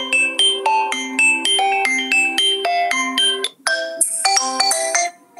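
A Xiaomi Redmi Note 4 ringtone plays through the phone's small built-in speaker, a bright repeating melody of clean chime-like tones that switches to a different tune partway through, loud and close with no talk.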